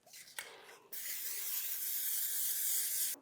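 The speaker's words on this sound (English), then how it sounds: "Non-stick cooking spray." Non-stick cooking spray hissing from a can into a baking dish, first a couple of short sputtering bursts, then one long steady close spray lasting over two seconds, with no talk.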